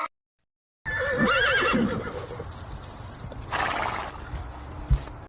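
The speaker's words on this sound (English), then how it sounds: "H for horse." A horse gives a loud, quavering whinny, then hooves clop and shuffle nearby, with a soft snort and a thump near the end.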